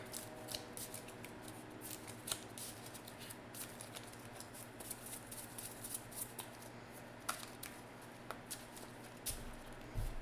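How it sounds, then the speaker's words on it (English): Soft, continuous riffling and papery flicks of a discard pile being shuffled during the Marvel Legendary deck-building card game, with scattered crisp clicks, fairly quiet and close, without voices. "Gotta shuffle my discard."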